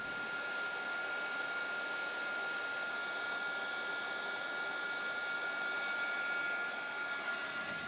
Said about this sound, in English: Now I'm gonna grab my heat tool and make sure it's heated very hot,